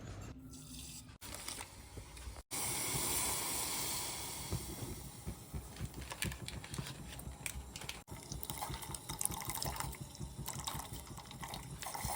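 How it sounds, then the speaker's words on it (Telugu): Water poured into a pan in a home kitchen on a winter morning, a steady hissing splash under faint background noise, interrupted by brief clicks. "నేను ఫస్ట్ నీళ్ళు పోస్తుంది, పాలు పోయాలి కదా అని అనుకుంటున్నారా?"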